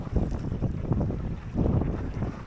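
Wind buffeting a sailboat heading upwind into a southwesterly, a steady loud low rumble with gusty surges and water wash against the hull, close and unbroken with no voices.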